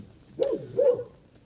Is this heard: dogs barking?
yes